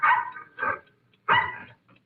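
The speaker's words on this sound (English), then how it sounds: "the occupants were awakened by the barking of a dog" A dog barks three times in an old-time radio western drama, set at night in Carson County, Texas, each bark fairly loud and separated by short pauses, followed by a faint final yip.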